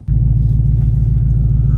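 An Infiniti Q45 cruises on the road with a kayak loaded on board, giving a steady, close, low engine rumble and road drone from inside the cabin, continuous after a brief quiet start.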